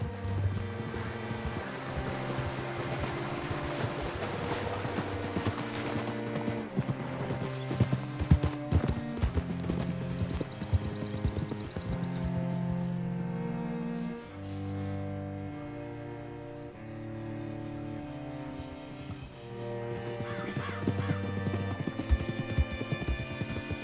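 Horse hooves clip-clop in a steady, even rhythm in the Red Dead Redemption 2 video game, under a continuous music score, with a brief whinny-like sound mixed in.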